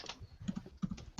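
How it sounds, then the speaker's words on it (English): Typing on a computer keyboard, a quick run of soft clicking keystrokes in small irregular bursts, close and fairly quiet, with no voices. "I hear the typing."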